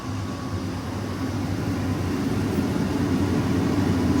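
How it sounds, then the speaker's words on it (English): Boiler blower fan starting up and running steadily during quarterly preventive maintenance, a continuous low droning hum with a broad airy rush that grows slightly stronger as it comes up to speed, with no talking. "The blower on the boiler just turned on."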